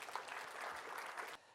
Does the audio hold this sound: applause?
yes